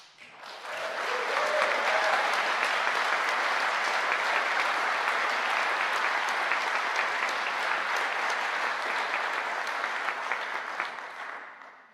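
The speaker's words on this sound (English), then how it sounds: "I think you should give yourselves a big cheer and a round of applause" Graduating class of 2021 at a Liverpool University School of the Arts graduation ceremony cheering and applauding, a dense, steady wash of clapping sustained for about ten seconds before fading out.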